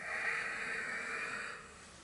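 Steady audible exhale through the nose or mouth during yoga breathing with Mula Bandha engaged, a close airy hiss lasting about two seconds and fading slightly at the end.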